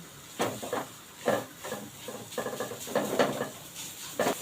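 Chopped carrot and capsicum sautéing in a pan over a low gas flame, a soft sizzle with repeated scraping and stirring strokes of a spatula against the pan, close and moderately quiet.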